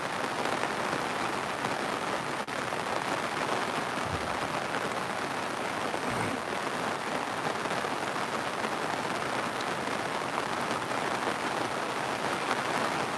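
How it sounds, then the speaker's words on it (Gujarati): Steady rain falls continuously over an area of Radhanpur in North Gujarat, a dense, even hiss of drops on surfaces that holds without pause throughout, with no voices. "ગઈ સાંજથી જ વરસાદ ચાલુ થઈ ગયો છે"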